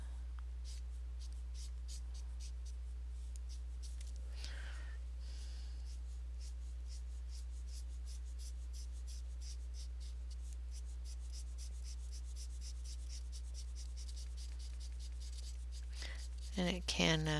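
Sanjoki markers drag across paper while a gown is colored in, giving soft, steady scratchy strokes over a constant low hum. A few sharper, louder rubs come near the end.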